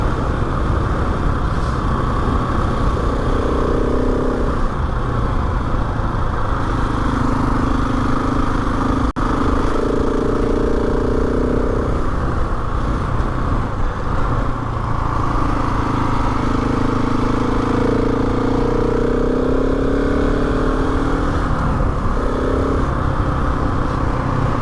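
A motorcycle ridden along a moorland road, its mid-pitched engine note steady and close, swelling and easing with throttle changes over a constant bed of wind rush, no voices.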